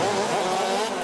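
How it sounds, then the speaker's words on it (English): Go-karts racing at the 13th Las Vegas SuperNationals on a temporary track in a casino car park, a loud, continuous high-revving engine drone with overlapping karts, no voices. "a temporary go-kart track and the deafening sound of the 13th SuperNationals race"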